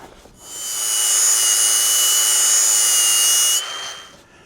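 An angle grinder cutting into a Jeep frame for a jalopy off-road build, running as one steady, loud, high-pitched whine for about three seconds before spinning down.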